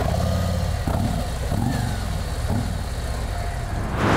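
A 2024 Harley-Davidson Road Glide motorcycle engine fires up and settles into a loud, steady, close rumble with a few uneven pulses, then swells again at the end.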